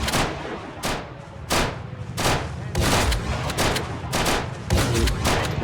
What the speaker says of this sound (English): They're firing at the zombies from the fog.